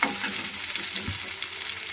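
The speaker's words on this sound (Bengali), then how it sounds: "এবার যে তরকাটা করেছি সেই তরকাটার মধ্যে ডিমটা ঢেলে দেবো।" Egg poured into a frying tarka in a pan, giving a loud, steady sizzle and crackle with stirring, close and continuous without any voices.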